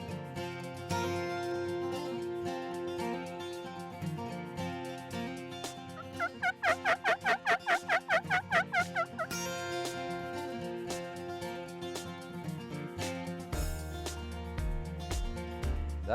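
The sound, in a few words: wild turkey gobbling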